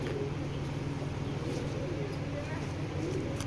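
A male Ludo Classic pigeon of original Ludo bloodline cooing in a low, continuous rolling murmur, half-buried in steady background noise.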